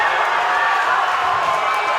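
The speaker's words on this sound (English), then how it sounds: "Crowd's amped up." Crowd at a cage fighting event, a sustained loud roar of cheering and shouting voices filling the arena without break.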